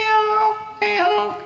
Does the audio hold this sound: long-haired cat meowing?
yes